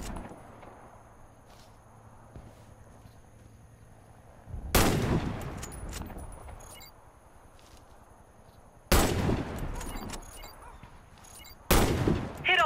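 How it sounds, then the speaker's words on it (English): Sniper rifle shots at targets in a Warface video game tutorial: three loud, sharp reports spaced several seconds apart, each with a ringing tail, over a quiet game background. "Hit all the targets with your Sniper rifle."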